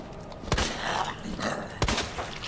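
Two sharp, loud gunshots about a second apart, fired in the Resident Evil 2 VR game, with quieter game sounds between them and no speech.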